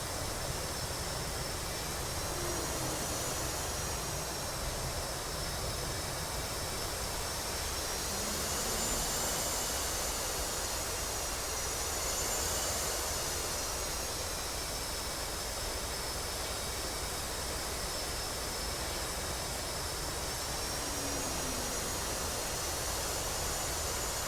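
An F/A-18C jet engine idles and taxis on an aircraft carrier deck in the DCS flight simulator, a steady loud roaring whine that swells gently at times and never stops.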